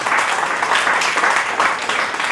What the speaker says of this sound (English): Now clap for yourselves